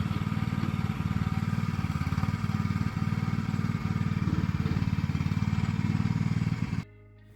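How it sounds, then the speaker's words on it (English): An AGT mini excavator's small engine runs steadily with a low, chugging drone and light mechanical clatter, loud and close, continuing for several seconds before cutting off abruptly near the end. "it's a small excavator, it's gonna be very time consuming"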